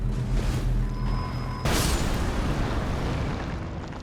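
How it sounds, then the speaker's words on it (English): Round balls explode in Elden Ring: Shadow of the Erdtree, a loud booming blast at about 1.7 s over a steady rumble of game noise, with its roar fading slowly afterward. "These are round balls, they explode"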